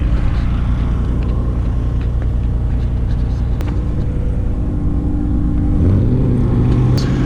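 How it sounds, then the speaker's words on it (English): A generator runs steadily at a racetrack, a constant low engine drone with no pauses, while a car engine nearby idles and then rises in pitch toward the end. "Generator's running."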